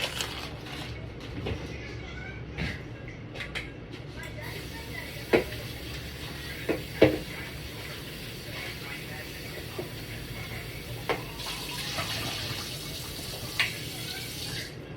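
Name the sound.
rinsing meat under running tap water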